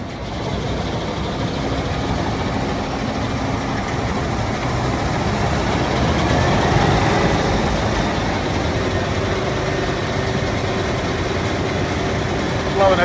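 Combine harvester engine running after servicing, a loud steady low rumble and idle drone that swells slightly midway and continues throughout.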